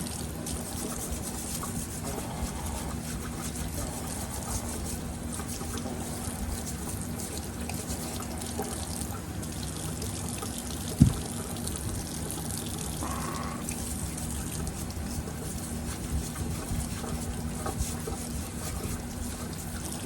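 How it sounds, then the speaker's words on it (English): Tap water runs steadily into a kitchen sink while corn cobs are washed, a constant close hiss and trickle with one brief sharp knock partway through and no talk. "let's head over to the sink and get this corn washed"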